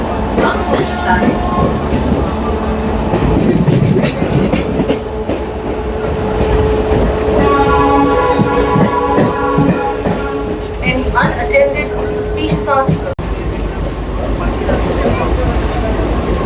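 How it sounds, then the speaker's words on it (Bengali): A Howrah–Bandel local train rolling through a station, a loud continuous rumble with clattering wheels and some squealing, while voices and announcements are heard over the din. "পাশের এই লোকালটি হলো হাওড়া ব্যান্ডেল লোকাল।"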